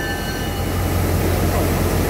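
An R167 blue diesel-electric locomotive hauls a train past Hualien station in Taiwan, making a loud, continuous, close rumble of engine and rolling wagons over a steady low drone.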